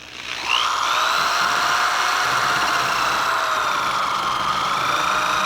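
A power drill spins a buffing attachment, removing old glue with a steady, bright whine that starts abruptly and holds at an even, close, moderately loud pitch throughout.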